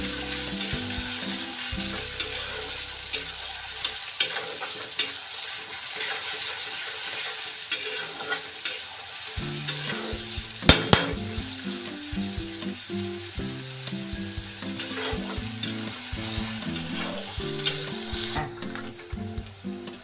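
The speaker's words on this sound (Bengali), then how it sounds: "এবার এটাকে আমি লাল লাল করে ভাজবো।" Onion, garlic and green chilies fry in a pan for palak paneer, with a steady sizzle running throughout and a scraping, clicking stir now and then.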